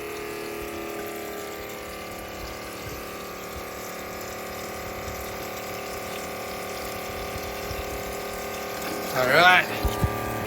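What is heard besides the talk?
reverse osmosis pump running with water flowing, maple sap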